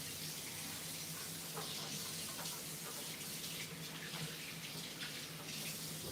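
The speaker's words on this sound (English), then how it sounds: "I'm gonna wash my hands again." Tap water runs steadily into a sink during handwashing in a home kitchen, a continuous hiss and splash that stays close and fairly even throughout.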